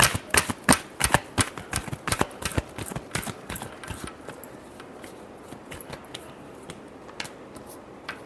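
Tarot cards are shuffled in a rapid run of crisp flicking snaps, loud and close at first, then softening and thinning into quicker, fainter riffles.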